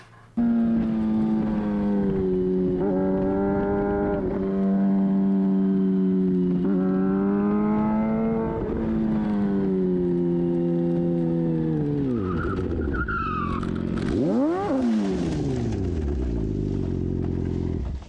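Racing motorcycle engine screaming at high revs on a track, pitch rising and falling through gear changes, then a sharp downshift and skid-like squeal near the end as the bike runs off toward the gravel.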